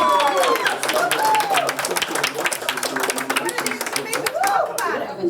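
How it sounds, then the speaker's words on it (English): Small crowd gathered in the Legion hall in Gander cheering and clapping over Tony nominations for the musical Come From Away, dense steady applause with whoops and shouts throughout. "small but mighty, the crowd there as they cheer"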